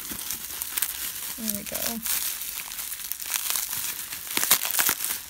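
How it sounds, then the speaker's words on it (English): Tape being ripped and cardboard crinkled while opening the packaging box of a 1/3 scale ball-jointed boy doll, with scattered crackling bursts close up under a person's brief talk. "I think I'm going to have to just kind of rip into it."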